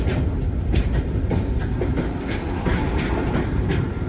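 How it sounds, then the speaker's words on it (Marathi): A train rolls past close by, with steady rumbling and rhythmic clickety-clack of wheels over rail joints throughout. "ही ट्रेन थांबत ना प्लॅटफॉर्म मध्ये ना थांबतो"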